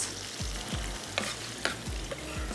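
Onions for Sindhi seyal gosht fry in a pan with a dense, constant sizzle close by, overlaid by a regular series of low thumping scrapes from stirring, with no speech.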